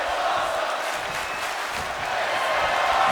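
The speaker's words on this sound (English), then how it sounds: "The crowd is loving this." A wrestling arena crowd cheers and roars steadily during a show after a German suplex, a dense continuous wash of voices at fairly constant loudness throughout.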